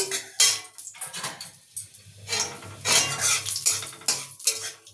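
Peanuts fry and get stirred in a pan, with repeated metal scraping and clinking against the pan in uneven bursts and a soft sizzle underneath, close and fairly loud, with no voices.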